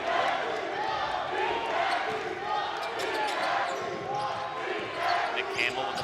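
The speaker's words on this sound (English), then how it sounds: "Crowd getting hyped up." A gym crowd at a men's college basketball game between Mohawk and Sheridan roars and cheers in a continuous wash, with ball bounces, shoe squeaks and a voice talking over it.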